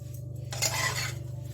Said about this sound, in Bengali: একটু চিনির সঙ্গে এটাকে মিক্সড করে আমি রেখে দিচ্ছি